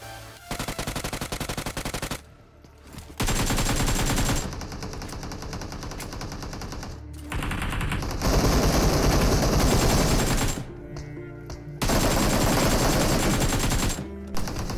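Gunfire in the mobile battle royale game PUBG Mobile: loud, close bursts of rapid automatic fire in several long strings, separated by brief pauses.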